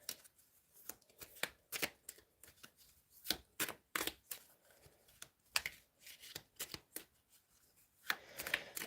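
A deck of tarot cards is shuffled by hand, a quiet run of crisp riffling flutters and soft slaps arriving in uneven bursts with short pauses between them.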